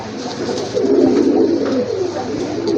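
Fancy pigeons, including Rajgolla and Gorra breeds at a sale, coo close by in low, rolling, continuous calls.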